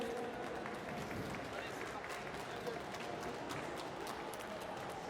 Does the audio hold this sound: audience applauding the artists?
yes